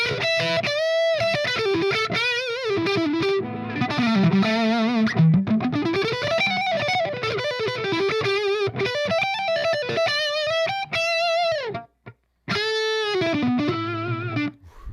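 An electric guitar on the bridge pickup plays through the lead channel of a Grandmeister Deluxe 40 amp, a distorted, sustained lead line with bending notes and runs, loud and continuous with brief pauses near the end.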